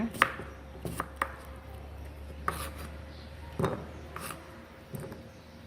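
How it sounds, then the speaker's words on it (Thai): A knife chops through food on a board in separate sharp strikes, about eight over several seconds, with a faint background hum. "แล้วหั่นเป็นชิ้นเล็กๆนะคะ"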